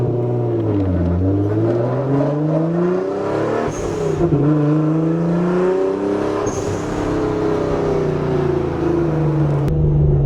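A Nissan Fairlady Z sports car fitted with an R35 GT-R exhaust revs up and down repeatedly, its exhaust rising and falling in pitch, loud and close.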